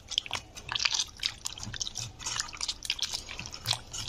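Wet squelching and dripping as water is squeezed out of kneaded flour dough by hand, a close, soft, irregular run of small splashes and drips.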